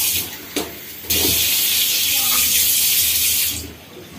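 Water poured from a small container into balushahi dough in a bowl, a steady broadband splashing hiss lasting a few seconds at close range, with a brief voice in the background at the start.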